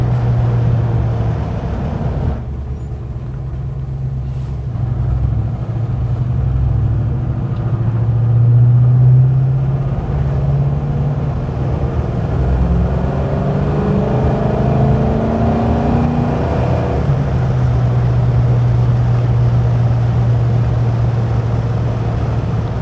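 A 1965 Buick Riviera Gran Sport's engine rumbles and revs steadily from inside the moving car, the exhaust note rising and falling as it accelerates.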